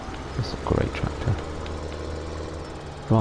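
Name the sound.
Steyr tractor engine in Farming Simulator 17 video game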